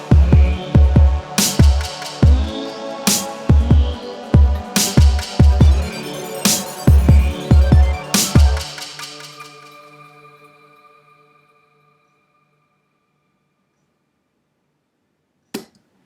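Hip-hop beat with glittery synths, a weird bass and punchy drums playing in a steady rhythm, then the drums drop out and the synths fade into a long decaying tail before a single sharp hit near the end.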